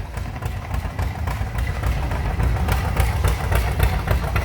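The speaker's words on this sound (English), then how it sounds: "It's a 1948 John Deere Model G" A 1948 John Deere Model G antique tractor engine runs steadily at a parade, a low, continuous chugging rumble held at fairly constant loudness throughout.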